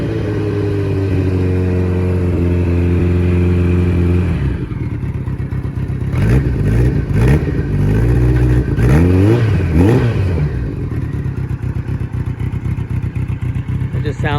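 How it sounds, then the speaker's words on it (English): A four-cylinder motorcycle engine with a 4-into-1 exhaust idles with a steady, rough burble, then revs hard in several loud, raucous bursts that climb and fall before settling back. "That 4-into-1 really gives it quite a raucous sort of sound"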